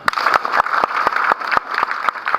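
Crowd at a police thanksgiving ceremony in Kisii clapping to welcome the Deputy Inspector General, loud and close, with sharp irregular claps over a steady rush of many hands.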